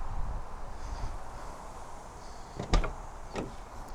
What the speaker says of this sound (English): Power sliding doors on both sides.